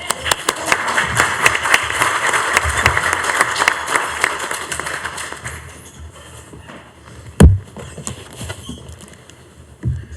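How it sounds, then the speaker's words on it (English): A conference audience at a peace education session gives a round of dense applause that starts strong and fades out, followed by quiet room tone and a single loud knock. "maybe one more round of applause for Renate"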